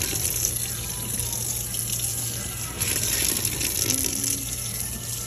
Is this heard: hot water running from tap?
yes